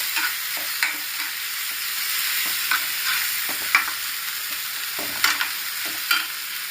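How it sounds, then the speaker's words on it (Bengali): Ground spice paste frying and being stirred in a pan for a fish curry, a steady close sizzle with repeated scraping strokes of the spoon at irregular intervals. "বাটা মশলাটা দিয়ে ভালোভাবে নাড়াচাড়া করে নিচ্ছি। সব মশলাটাকে ভালোভাবে কষিয়ে নিচ্ছি আমি এখানে।"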